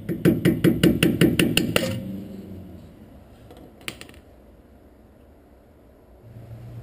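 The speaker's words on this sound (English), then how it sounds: "work your way around the outside with a screwdriver and a hammer to pry it off" A rapid series of sharp metallic taps, about ten evenly spaced hammer strikes on a screwdriver prying off a wheel hub dust cap, loud and close, then quiet with a single faint knock.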